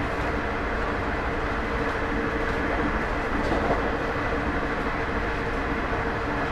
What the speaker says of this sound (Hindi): हमारी ट्रेन 130 किलोमीटर पर आवर की रफ्तार में चल रही है